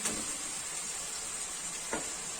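Fried fish being added to a masala curry in a pan, producing a steady, moderately loud sizzle with a couple of soft stirring clatters, no voices.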